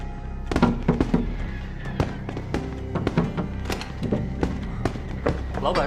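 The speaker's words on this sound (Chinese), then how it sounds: "小三爷，烟花表演结束了。" Fireworks go off during an outdoor display, a rapid string of sharp bangs and thuds at irregular intervals, fairly close and loud, with voices faintly present beneath.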